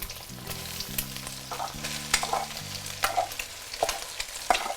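Rice tossed into a wok with half-cooked egg, frying and sizzling with busy scraping stir strokes and spatula clicks, close up, no talking, under faint background music.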